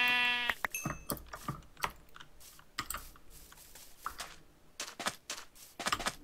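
A Minecraft sheep gives one short bleat at the start, followed by rapid clicking and crunching game sounds that sound like eating or keyboard taps.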